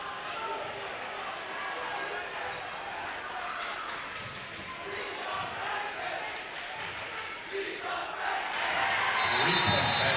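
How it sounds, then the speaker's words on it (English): A packed high school basketball crowd in Kentucky cheers and roars as one team holds a six-point lead. The steady crowd noise runs under an announcer's voice and swells louder near the end. "The crowd is losing it here,"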